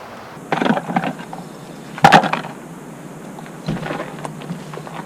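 A single dull thump of a head striking the compartment of an Onan QAP 5500 EVAP generator, heard close against a quiet background, with a few softer rustling knocks before and after.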